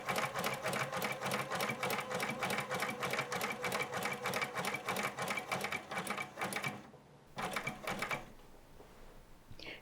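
A domestic sewing machine stitches a buttonhole on jeans denim, a steady fast rhythmic whir of needle strokes up close, pausing briefly near the end before resuming for a few more stitches.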